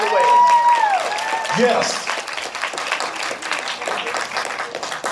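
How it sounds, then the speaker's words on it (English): An audience at a keynote speech in Savannah, Georgia breaks into loud, dense hand clapping that fills the room after a brief spoken word at the start. "Could y'all clap your hands one more time?"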